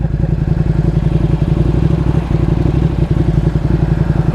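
A 2020 Ducati Panigale V2 motorcycle engine runs steadily on a road ride, with a loud, continuous throbbing rumble and rapid pulsing firing rhythm close up, no talk over it.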